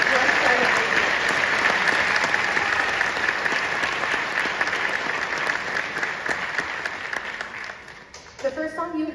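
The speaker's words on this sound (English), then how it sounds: "I just want to give our 6th graders a round of applause for how far they've come in 1 year" Sustained audience applause for sixth-grade band students at a school winter concert, a dense steady wash of many hands clapping for several seconds before tapering and giving way to a voice near the end.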